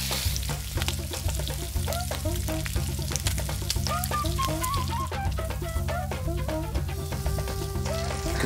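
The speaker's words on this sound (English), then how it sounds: "So now let's fry all the rolls." Tofu mushroom rolls fry in a pan of oil, a steady close sizzle running throughout beneath prominent melodic background music.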